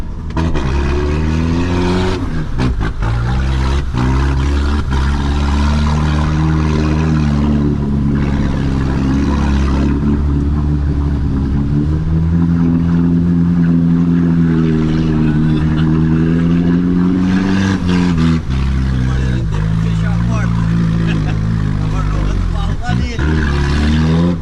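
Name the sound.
vehicle engines revving at a jeep and motorcycle meet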